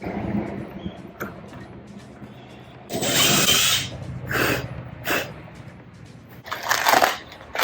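A power drill whirs in several short bursts, driving screws to fix a rear wing spoiler onto an R56 Mini Cooper S, with pauses and faint handling noise between runs.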